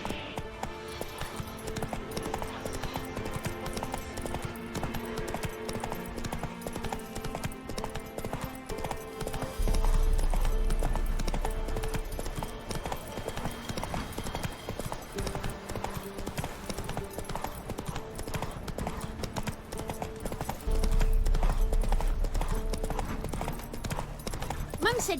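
Roach the horse from The Witcher 3 trots with rhythmic clip-clop hooves under game music, with swelling low rumbles at intervals and a person talking over it.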